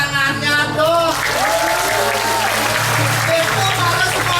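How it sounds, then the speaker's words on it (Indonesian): Audience at a Balinese Drama Gong comedy performance breaks into clapping, a sustained dense wash of applause under tonal music and a voice, fairly close and loud. "Tepuk tangannya dong."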